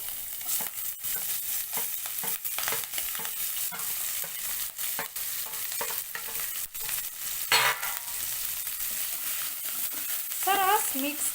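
Curry leaves, green chili and ginger pieces hiss and sizzle in hot oil with steady frying crackle throughout, a stirring scrape now and then, and a sharper burst of spitting near the end.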